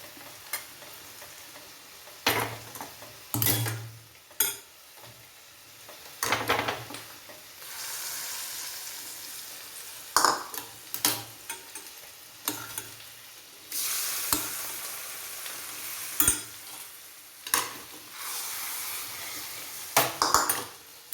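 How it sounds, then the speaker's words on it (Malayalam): Tempered Kashmiri chili being stirred into a lentil and snake gourd curry: a spoon scrapes and clinks against the pot in irregular strokes over a soft, continuous sizzle. "ഇനി നമുക്കിത് നമ്മുടെ കറിയിലേക്ക് ചേർത്തിളക്കാം"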